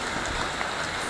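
Light drizzle falling outdoors in Panabo City, Davao del Norte, heard as a steady, soft hiss of fine drops with no voices over it.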